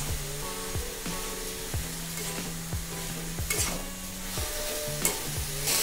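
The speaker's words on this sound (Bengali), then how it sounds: "দিয়ে এখন শুধু সুন্দর করে নাড়ব" Red amaranth leaves frying in a pan while being stirred, a steady close sizzle broken by regular scraping strokes, with a constant droning hum underneath and no voices.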